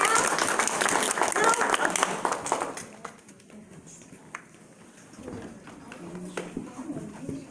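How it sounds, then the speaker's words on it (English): Audience applause at a clown show, a burst of crowd clapping that fades after a few seconds, followed by scattered taps, stage noise and faint voices. "Yes, a round of applause."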